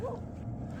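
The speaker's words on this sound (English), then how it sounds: "We have a neighbor with 2 dogs, and they are noisy. And they're barking at this guy." Two neighbor dogs bark and yip close by in Quartzsite, a short burst of several quick barks over low background noise.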